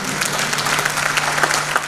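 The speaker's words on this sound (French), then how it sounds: "afin que nous puissions vous applaudir" An audience applauding prize winners at an awards ceremony, steady dense clapping from a large crowd in a hall, sustained and fairly loud with no speech over it.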